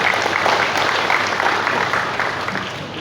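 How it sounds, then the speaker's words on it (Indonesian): A crowd applauds steadily at an evening police farewell-and-welcome ceremony for the Banyumas police chief, a dense wash of clapping that fades slightly toward the end. "Tepuk tangan buat Kapolresta Banyumas."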